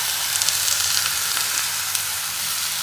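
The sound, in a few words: dal added to hot pan, sizzling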